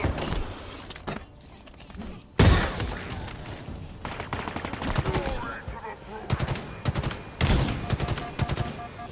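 Gunfire from the shooter game Halo Infinite, including sniper fire: sharp, loud cracks and bursts of rapid shots, with a heavy report near the start and more volleys toward the end, all over a game soundscape.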